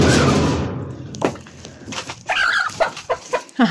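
A chicken clucks in short, separate bursts after a brief noisy rustle, fairly close and with no talking.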